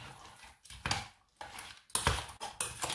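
Raw prawns are stirred with sugar, salt, dark soy sauce and white pepper in a bowl, giving soft uneven wet clinks and scrapes in quick bursts, close and quiet.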